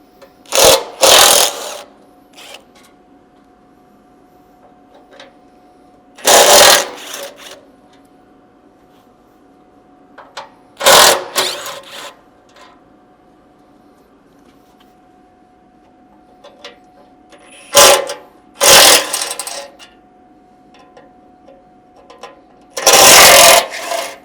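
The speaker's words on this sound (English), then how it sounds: "you'll need a T40 Torx bit to remove the 3 bolts across the top here holding this in place" A power driver with a T40 Torx bit runs out bolts on the front Vanguard bumper of a Ford Bronco, giving five short, loud whirring bursts at roughly even intervals, with quiet pauses between them.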